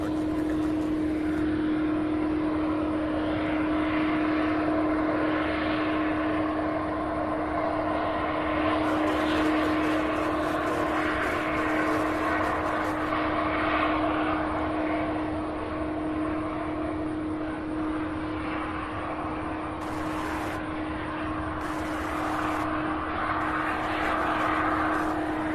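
A Boeing 747 jet coming in to land at Louisville International airport, a steady distant engine drone with a sustained whine, heard alone without talk.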